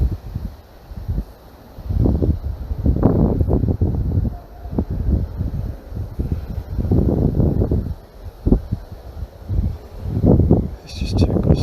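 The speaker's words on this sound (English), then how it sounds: "It's just too gusty" Gusty outdoor wind buffets the microphone in loud, low, rumbling surges that rise and fall irregularly, with a drone session nearby.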